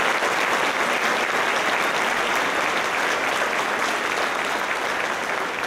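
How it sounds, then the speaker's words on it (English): Sustained, dense applause from a graduation audience fills the whole stretch at steady loudness, a continuous wash of many hands clapping with no voices standing out. "Round of applause for that, please."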